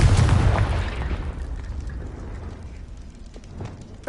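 Confringo explosive spell blast in Hogwarts Legacy: a loud booming burst up front that rumbles and crackles as it fades over a few seconds, with a small pop near the end.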